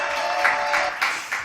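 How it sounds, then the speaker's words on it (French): A studio audience applauds for Martial after his singing, a steady wash of clapping that carries on for the full moment without any talk over it. "Allez, on l'applaudit."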